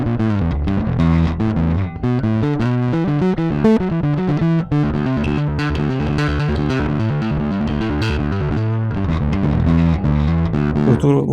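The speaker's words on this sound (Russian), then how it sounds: "Вот такой уровень искажений." Bass guitar played through a NUX NBP-5 bass preamp with the overdrive engaged, a thick, gritty distorted bassline running continuously and loud, with steady rhythmic notes and no voices.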